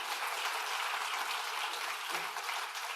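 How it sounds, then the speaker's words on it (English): Audience applause at the opening ceremony of a national cancer congress in Malaysia, a steady hiss of many hands clapping at moderate distance, unbroken for the whole stretch. "Let's give them a round of applause."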